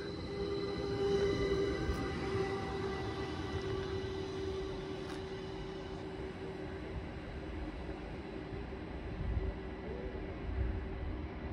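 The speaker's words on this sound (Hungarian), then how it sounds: "Teljesen modern, légkondicionált motorvonat" A modern air-conditioned electric multiple unit train, a small Flirt-type unit on a Hungarian electrified narrow-gauge line, hums along with a steady low rumble and a faint tonal whine, heard close and continuous, with no talking.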